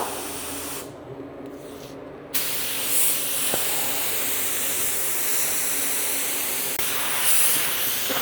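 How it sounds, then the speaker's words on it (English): An LVLP paint spray gun atomizes sealer with a steady, loud hissing rush, briefly cut off near the start as the trigger is released, then resuming continuously near the mic. "So look how nice this gun sprays."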